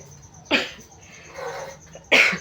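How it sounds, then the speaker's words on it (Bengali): Two sharp, fairly loud coughs from a person with a lingering mild cough and sore throat after a fever, one near the start and one at the end, with quieter shuffling and breathing between them in a home kitchen. "হালকা আর হালকা কাশি আছে"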